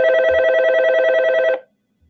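A telephone rings with a steady electronic trill, one continuous burst of about a second and a half that cuts off abruptly, followed by near silence.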